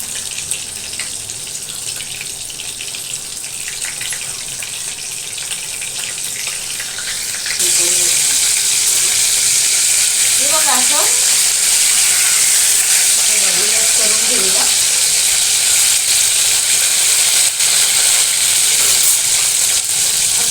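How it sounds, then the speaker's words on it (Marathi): A quiet hiss jumps to a loud, steady sizzle as a stuffed Bombay duck (bombil) fish hits the hot pan, frying continuously with faint speech in between. "बघा आता हा आपण पहिला तळून घेऊ एक एकच तळणार आहे"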